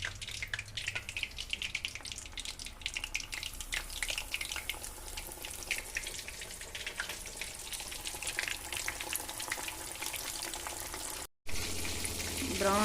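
A small piece of chicken fries in hot oil for homemade KFC-style chicken, giving a steady, close crackling sizzle that continues for several seconds, cuts out briefly, then resumes.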